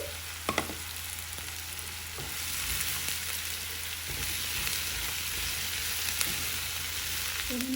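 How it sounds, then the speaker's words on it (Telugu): Okra pieces frying with onions in a pan for a bhendi masala fry give a steady, close sizzle throughout, with a few faint clinks of a spoon against the pan and no talking. "ఇప్పుడు కట్ చేసి పెట్టుకున్న బెండకాయ ముక్కలు వేసి వేయించుకోవాలి."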